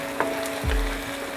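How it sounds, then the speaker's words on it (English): Crushed ginger and garlic for aloo dum fry in a pan with a soft hiss, one light tap and then a brief low thud partway through, heard up close for a moment. "I am going to cook the ginger and garlic till the raw aroma is gone"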